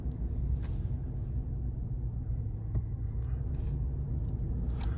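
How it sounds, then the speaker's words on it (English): A 2019 Ram 1500 Classic Night Edition crew cab 4x4 pickup on a slow test drive around a dealer lot, giving a low, steady engine and road rumble heard from inside the cab. "I'm going to take this one on a little bit of a test drive around the lot here."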